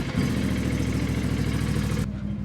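A vehicle engine runs steadily at a close, even level with no talk, a low mid-pitched drone that holds for about two seconds and then thins out toward the end.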